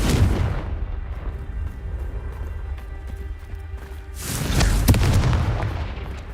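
Confringo blasting curse detonating in the Hogwarts Legacy video game, a booming explosion at the start and a second loud blast burst near the end over a rumbling low background.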